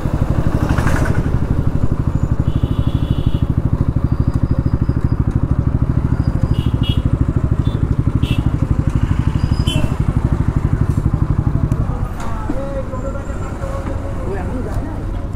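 A long line of motorcycles rides past at an Independence Day celebration, with loud continuous engine rumble that eases slightly near the end, while a voice talks over it.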